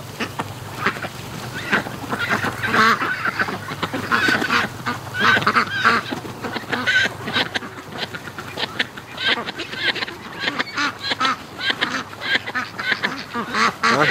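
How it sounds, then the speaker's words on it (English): A flock of Muscovy ducks gives a busy, overlapping chorus of honks and quacks from several birds. The calls come fairly close and moderately loud, with a voice faintly audible underneath. "I wonder if these are the Muscovys that were the last ones to leave today."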